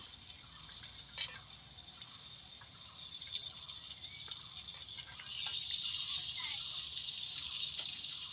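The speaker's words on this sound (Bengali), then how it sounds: "এবার মাছ ভাজা হয়ে গেছে মাছগুলো তুলে নেব" Prawns fry in hot oil in a pan, making a steady hissing sizzle that grows louder partway through, with a couple of faint utensil clicks early on and no one speaking.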